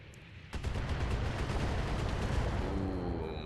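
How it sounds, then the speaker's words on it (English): Heavy missile fire in the BattleTech mech combat game, bursting in at once as a dense, loud, sustained roar of launches and impacts rolling on for several seconds. "It's going to be some missile fire?"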